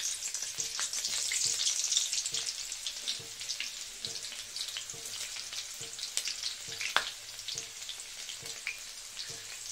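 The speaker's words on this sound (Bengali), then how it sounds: "রসুনটা একটু ভাজা ভাজা হোক," Chopped garlic sizzles steadily in hot oil in a wok for chicken chow mein, a continuous bright frying hiss with light rhythmic stirring clicks and no voices.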